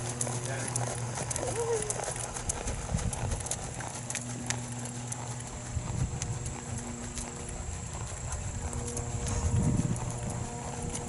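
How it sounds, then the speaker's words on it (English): Horse hooves thud along in a steady running rhythm under a constant low hum and outdoor noise, with people talking over it. "we got horses running"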